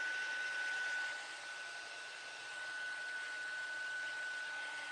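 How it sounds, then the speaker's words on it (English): A handheld hair dryer blows steadily up close to dry clay-based DIY craft paint, a continuous airy whoosh with a faint whine that dips slightly in the middle. "Sorry, have to use the dryer."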